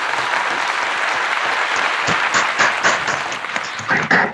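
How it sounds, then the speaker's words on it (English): Applause fills the hall for winning teams at a 2021 national finals and awarding ceremony in India, a steady dense clapping that swells with a few louder bursts toward the end. "You may cheer and applaud"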